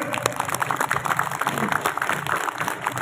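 Enthusiastic applause from a crowd at a flag ceremony, a dense, steady patter of many hands clapping throughout, fairly loud and continuous with scattered crowd noise beneath.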